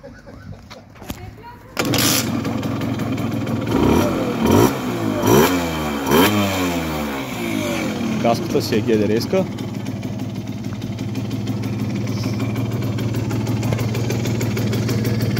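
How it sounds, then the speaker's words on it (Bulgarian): A small two-stroke Simson S60/4 12V moped engine kicks into life after a couple of seconds, revs briefly, then settles into a steady close idle while someone talks over it. "Да го запалим, да видим ще работи ли този мотор."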